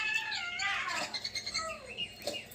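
Two cats meow and chirp while watching birds on a television, their cries overlapping with tweeting bird calls from the screen in a steady, close indoor mix.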